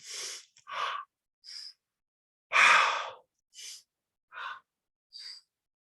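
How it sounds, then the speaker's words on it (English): Several short, breathy mouth inhalations and exhalations in a slow uneven rhythm, close and clear, separated by brief silences. "you're going to be breathing 3 breaths in through the mouth and then 1 breath out of the mouth"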